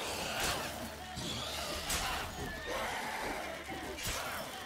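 A horse neighs and whinnies several times in The Witcher 3, with clip-clop and bursts of action noise mixed underneath.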